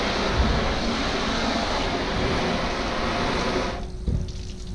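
Water spraying steadily onto a car's waxed paintwork during a rinse, a loud continuous hiss and splash that cuts off abruptly near the end, leaving brief quieter dripping.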